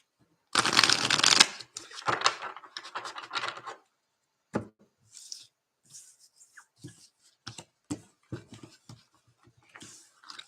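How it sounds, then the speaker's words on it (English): Tarot cards riffle in a quick, close shuffle, followed by scattered soft taps and slides as the deck is handled and squared up. "I'm going to give all these cards a little shuffle."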